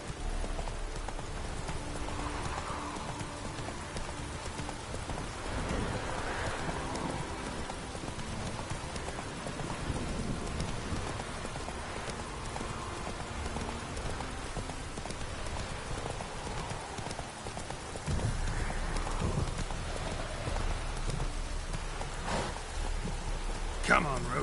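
Horse hooves clip-clop steadily through rainfall in The Witcher 3, the steed Roach trotting beneath a constant patter of rain, with faint voices now and then.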